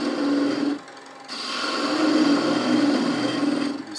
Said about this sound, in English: I sand up to about 400